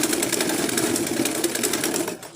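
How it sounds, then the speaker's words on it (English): A sewing machine stitches along a strip of fabric for an auto gele headwrap, a rapid, even mechanical chatter of the needle running close and continuously before easing off at the end. "Then you sew from one end down to the other end of your fabric."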